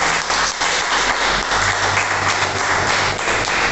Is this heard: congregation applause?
yes